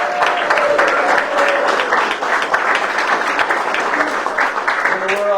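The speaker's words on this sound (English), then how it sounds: "Can we get a cheer to the UConn Huskies?" An audience at a council meeting cheers and applauds loudly for a UConn Huskies youth team, a dense, sustained wash of clapping with shouts and whoops mixed in, and voices rising over the crowd.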